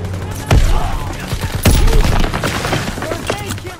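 A grenade blast and a burst of rapid gunfire ring out in Call of Duty WWII campaign gameplay, loud and close, with heavy booming thuds over dense battle noise.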